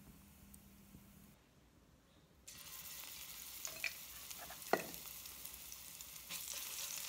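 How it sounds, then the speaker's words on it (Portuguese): Loofah gourd sautéing in a little oil with garlic on a wood-fired stove: a soft, steady sizzle that swells after a quiet start, with occasional utensil clicks and taps over the frying. "Decidi vir fazer a nossa bucha refogada aqui no fogãozinho de lenha"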